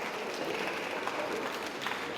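Applause for students during a school event marking the handover of an advocacy document to an education official, sustained clapping from a crowd at moderate distance, fairly soft and continuous for two seconds.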